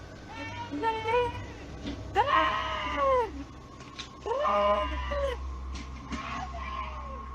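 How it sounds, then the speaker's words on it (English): A woman screams in long, wavering, rising-and-falling cries, three main bursts from some distance away, over a low steady background hum. "You can hear a woman scream."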